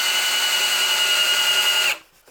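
A power drill spins at steady high speed, driving a screw into a wooden dowel for a garlic planting tool, a loud continuous whine lasting about two seconds before cutting off abruptly into near silence.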